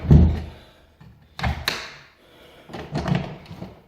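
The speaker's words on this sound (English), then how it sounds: "Tell you what, that door don't rattle or anything." A door is shut, giving a firm thud followed by two more knocks and bumps of wood and latch, close and clear with quiet gaps between them.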